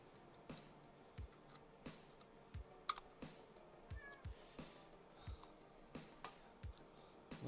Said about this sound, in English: Meow. You're a cat.